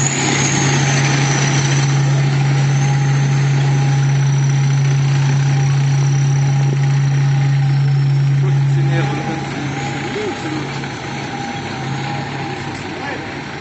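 A Soviet armoured military vehicle runs at a tank museum's live demonstration in Saumur, its engine holding a steady, loud idling drone with a low rumbling tone that eases slightly in level toward the end.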